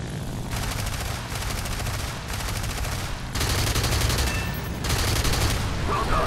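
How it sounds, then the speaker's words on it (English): Aircraft gunfire in the War Thunder video game, with an Fw-190 fighter involved: long continuous bursts of rapid machine-gun fire over a constant engine roar, the firing pausing briefly and then resuming louder. "I think I had a friendly shooting at me."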